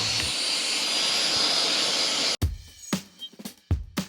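Philips AquaPlus XC8349 cordless vacuum cleaner running in turbo mode, a loud, steady whooshing roar that cuts off abruptly, followed by a few thumps and handling knocks.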